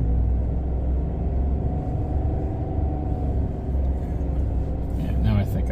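A 2023 Chevy Silverado ZR2 Bison pickup pulls through sand with both differentials locked, giving a steady, loud engine drone and rumble throughout, with a person talking over it.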